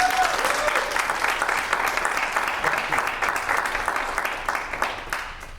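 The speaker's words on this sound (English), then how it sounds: "Can you give her a round of applause?" A crowd applauds steadily for several seconds, dense clapping filling the room before tapering slightly at the end.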